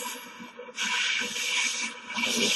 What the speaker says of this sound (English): The best you can do is to angle the torch and wallow through the top piece, blowing out the slag